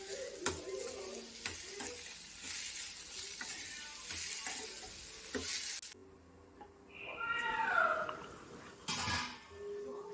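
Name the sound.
green chillies and tomato frying in a pan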